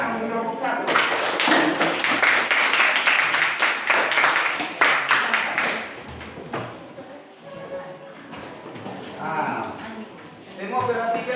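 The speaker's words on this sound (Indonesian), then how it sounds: "silakan tepuk tangan untuk kelompok 1" A classroom group applauds Group 1 before a presentation, a dense burst of clapping lasting several seconds that fades out, followed by quieter voices and a few scattered taps.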